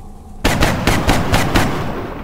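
Rapid gunfire in XCOM: Long War, a turn-based tactics game: a loud run of about six evenly spaced shots bursts in after a moment of silence, with no talking.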